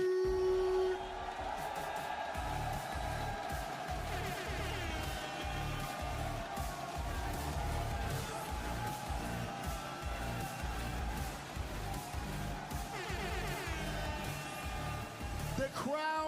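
A large crowd at a fighting game tournament watch party roars and cheers in a steady wash of noise, with occasional whoops rising above the din.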